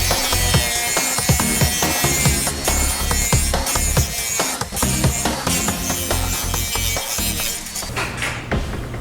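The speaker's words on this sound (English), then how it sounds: "We're going to do a little sanding on this." A Dremel rotary tool sands a soft workpiece up close, giving a rough, scratchy grinding that comes in uneven strokes with brief dips and pauses.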